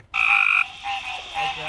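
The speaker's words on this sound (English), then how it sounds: "Every now and then you'll hear a deeper croak." Frogs croaking in grassy water on a ranch at night during mating season, a loud close croak followed by two fainter, lower calls in a short sequence, with no voices.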